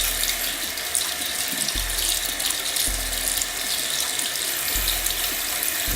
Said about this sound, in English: So I turn on the water, get the soap wet.